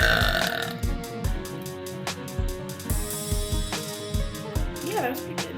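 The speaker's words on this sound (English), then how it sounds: "Well, I'm pretty good at burping actually. I can do it on command." A woman burps on command, producing a long run of repeated, rhythmic belches, loud and close, with short gaps between them and a brief voice near the end.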